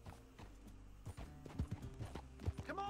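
Horse hooves clip-clop on the ground in the open-world game Red Dead Redemption 2, a steady uneven trot that is faint and quiet in the mix.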